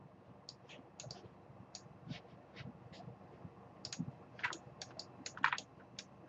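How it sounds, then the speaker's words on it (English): Light, irregular clicks tapping away in the background, faint and scattered, sounding much like keys on a computer keyboard being typed. "I don't know what this clicking noise is in the background."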